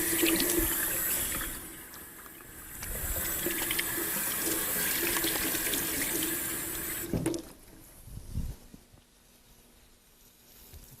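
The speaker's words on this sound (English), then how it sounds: "Give my hands a quick wash here." Kitchen tap water pours steadily into a sink during a quick hand wash, a loud close rush that cuts off abruptly, followed by a few soft handling knocks and drips.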